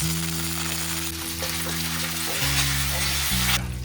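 Two tablespoons of finely chopped garlic and a few curry leaves fry in two tablespoons of hot oil for a spicy garlic fish dish, giving a continuous close sizzle over a low steady hum, with no voices.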